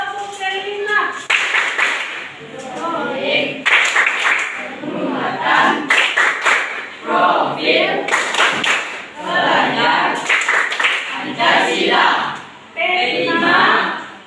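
Audience at an exam event clapping on cue in a patterned chant-clap routine, loud bursts of rhythmic clapping alternating with group shouts and a leader's voice.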